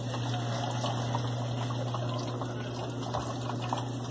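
A Consul CWB12 washing machine drains its tub with a steady pump hum and the continuous rush of water flowing out, with no voices over it.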